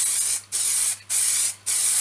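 Chestnut ebonizing lacquer sprayed in light coats onto a wooden bowl, heard as four short, close aerosol hisses of about half a second each, separated by brief pauses.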